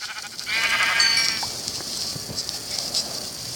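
Sheep in the video game Minecraft bleat, with one clear, close bleat followed by fainter game sounds and no speech over them.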